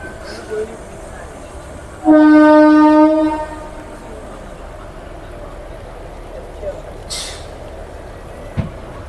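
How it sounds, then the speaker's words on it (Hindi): A WDG4G diesel locomotive from Roza shed stands at Laksar Junction station and sounds a loud, steady horn blast of about a second, followed by quieter station ambience and a few distant knocks. "और ये खड़ा है हमारा रोजा शेड का WDG 4G"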